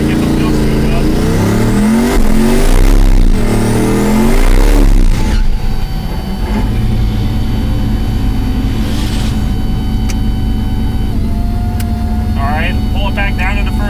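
A 1500-horsepower twin-turbo exoskeleton drag car doing a burnout: the engine loudly revs up and down in rising and falling sweeps, then settles into a sustained, close, roaring drone.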